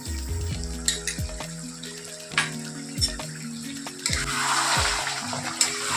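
Ghee sizzles in mung dal chicken in a pan, a steady close frying hiss with a pitched tonal hum running underneath, occasional clinks, swelling louder toward the end.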